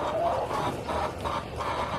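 Hens cluck softly nearby, a few repeated clucks blending into a low farmyard murmur.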